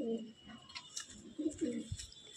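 A pet flying pigeon at a loft coos softly nearby, a few low throaty coo phrases over quiet background chirps.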